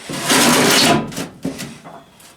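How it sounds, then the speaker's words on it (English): The metal drawer of a charcoal smoker slides shut with a loud, grinding scrape followed by a couple of sharp clanks as it seats, close by. "Shut the drawer."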